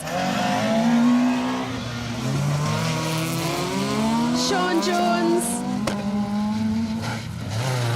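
A Vauxhall Nova rally car races along a stage of the Rali Menai Stages, its engine revving and shifting loudly up close with rising and falling pitch, while a commentator talks over it.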